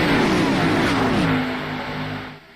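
Race cars running in a pack at the 2022 Daytona 300 roar past, a loud engine drone that slides downward in pitch as they go by and then fades off.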